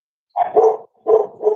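A dog barks in two close pairs of sharp, mid-pitched woofs, loud and near, with a short pause between the pairs and no other sound.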